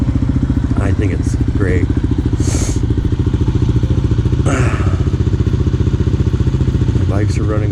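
Motorcycles idle and run steadily on a road trip in northern Mexico between Casas Grandes and Creel, a loud low engine throb throughout with a few clattering bursts, while a person talks briefly over the engine noise.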